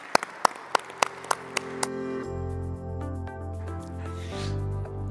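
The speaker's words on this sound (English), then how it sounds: "please give our panel a huge round of applause" Audience applause for a panel at a conference arena, starting as a few separate claps, then blurring into a steady round of clapping. Sustained tones from music or a synth come in under the applause partway through.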